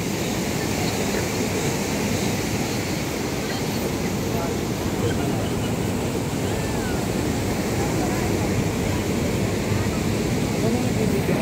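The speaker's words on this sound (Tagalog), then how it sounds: "Malakas ang alon." Steady roar of strong ocean surf at La Union with continuous wind buffeting the microphone, a dense wash of noise that never lets up.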